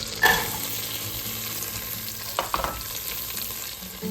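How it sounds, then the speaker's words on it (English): Chopped carrots sautéing in melted butter in a large pot give a steady, close sizzle of frying, with a stirring scrape near the start and a few clinks partway through. "And a large pot, let's melt 1½ tablespoons of butter. We're gonna add our carrots,"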